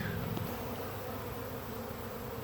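A honeybee swarm gathering around a hive box buzzes in a dense, continuous drone, close and steady with no voices.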